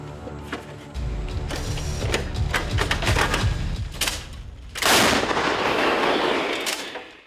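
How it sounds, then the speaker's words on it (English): A Russian tank struck by Ukrainian fire, heavy mechanical rumbling and sharp cracks followed by a loud roaring blast around the middle that swells and slowly fades, near and loud. "hitting it with precision and accuracy with one hit. The tank explodes in a flash of flames which engulf the tank."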